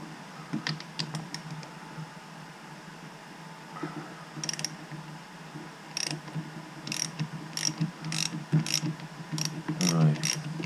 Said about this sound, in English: I'm going to try and take this nut off because I can't hold that sprocket.